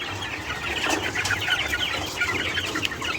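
Chicks and chickens clucking and cheeping together in a farm coop, a continuous busy flock chatter close by with no voices.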